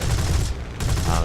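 Spitfire cannons in War Thunder fire a dense, loud burst with a heavy low rumble, breaking off briefly midway before the fire resumes.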